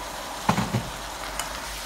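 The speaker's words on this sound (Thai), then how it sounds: "หมูกรอบลงไปเลยค่ะ" Crispy pork, air-fried, tossed into a sizzling holy basil and kale stir-fry in a pan, giving a few soft spatula scrapes and clatters over a steady low fry hiss, close and fairly quiet.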